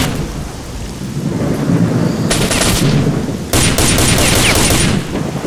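Gunfire in the video game S.T.A.L.K.E.R. Shadow of Chernobyl: loud, dense bursts of automatic shots over a constant heavy rumble, with a sharp volley about midway and another firing stretch toward the end.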